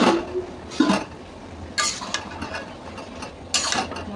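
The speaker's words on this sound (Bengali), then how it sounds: "তো চলো বন্ধুরা, ঢাকাটা খুলে দেখি হয়েছে কিনা।" A lid is lifted from a cooking pot of cabbage curry, making a few close metallic clatters and scrapes spread over several seconds, with quieter handling between them.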